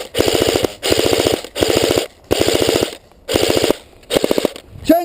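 Airsoft gunfire during an outdoor skirmish in Scotland, six loud close bursts of rapid automatic fire, each about half a second long, separated by short pauses, with a brief voice at the very end.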